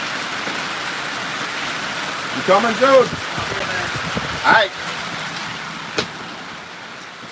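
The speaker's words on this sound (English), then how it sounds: "It's raining." Rain falling outdoors as a steady soft hiss throughout, with someone briefly talking over it and a sharp knock near the end.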